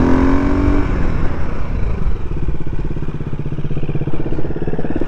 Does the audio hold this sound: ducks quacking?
no